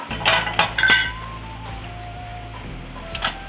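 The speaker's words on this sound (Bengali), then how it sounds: "তার উপরেই আমি আবার স্টিমারটা বসিয়ে দিচ্ছি স্টকও রেডি হয়ে যাবে আমাদের টাইপও রেডি হয়ে যাবে আমি দুটোই বসিয়ে দিলাম ঢাকনাটা দিয়ে দিচ্ছি" A metal lid is set onto a steamer pot with a few quick clanks and clinks, then a low steady hum carries on, with one more faint clink near the end.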